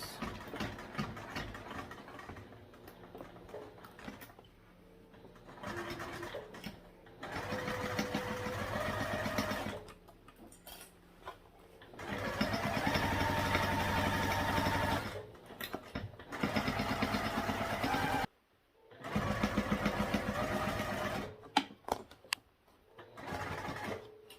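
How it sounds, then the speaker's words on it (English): A sewing machine slowly stitching through the bulky ends of a fabric crossbody bag, running in several separate bursts of whirring motor with short pauses between, fairly close and with no voices. "I'm to one of those really bulky ends, so I'll go pretty slow here. You may even need to hand crank if it struggles."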